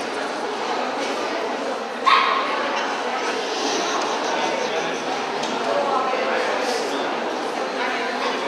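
At a Papillon dog show in Wels, Austria, small dogs yip and bark in short bursts, one sharper yelp standing out early, over a constant murmur of crowd noise.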